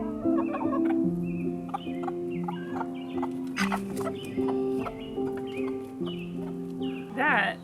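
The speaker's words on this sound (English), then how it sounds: "That is what a broody chicken looks like." A broody Easter Egger hen clucks close by in a run of low, throaty, drawn-out clucks and grumbles, with a sharper squawk near the end.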